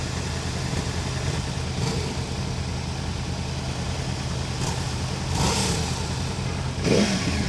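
Liter-class motorcycle engine at the International Motorcycle Show, holding a steady rumble with brief throttle blips swelling near the end, close up amid show-floor ambience.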